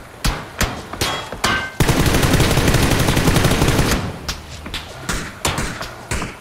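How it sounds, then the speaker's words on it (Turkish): Rapid bursts of video game gunfire from a shooter set among houses: sharp, loud automatic fire with thuddy shots, including one sustained burst in the middle, with no talking over it. "Diğeri de sağ evden sıkıyor"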